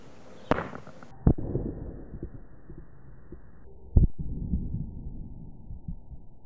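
A screw fired as a test shot into homemade ballistic gel: a sharp bang near the start, a second crack about a second later and another loud hit near four seconds, each followed by rumbling noise.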